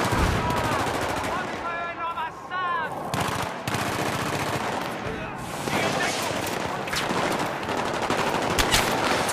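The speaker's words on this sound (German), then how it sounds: "Ah, ich werde beschossen" Rapid automatic gunfire and single shots in Battlefield 3, loud and close, bursts repeating throughout with a player talking over the shooting.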